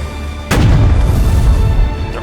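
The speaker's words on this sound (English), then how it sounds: "There are also impacts from those cannons hitting us down below" Cannon fire in a battle video game: one sudden loud boom at the half-second mark, then a heavy low rumble that stays loud for the rest of the clip.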